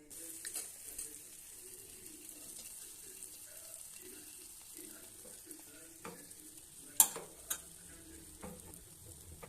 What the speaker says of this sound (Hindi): इसे हमने बहुत ही सॉफ्ट आंच पे तलना है